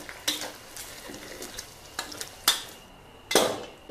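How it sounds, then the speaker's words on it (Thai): Pork frying in oil in a pan, with a steady sizzle under irregular scraping and clattering as it is stirred, several louder strokes standing out. "จะทอดนะคะให้หมูมีสีเหลืองประมาณนี"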